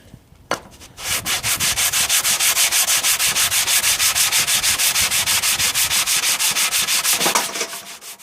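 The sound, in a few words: lapping synthetic sharpening stones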